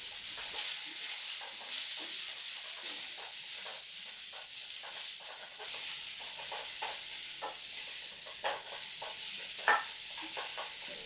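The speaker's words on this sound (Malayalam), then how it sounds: "രണ്ട് തക്കാളി ചെറുതായി അരിഞ്ഞ് ചേർത്ത് നല്ലപോലെ ഉടച്ചു വഴറ്റിയെടുക്കണം" Chopped tomatoes for an egg curry sizzle steadily in a hot pan, with repeated scraping stir strokes throughout and no voices.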